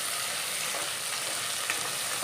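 Ginger-garlic paste and green chillies sizzle in hot oil while pickle is cooked, a steady close, loud crackling fry with no voices.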